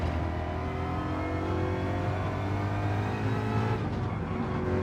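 Engine of a GR3 Ford Mustang in Gran Turismo 7 at Circuit de Spa-Francorchamps, a loud continuous roar that shifts pitch as the car works through gears, heard alone without talk.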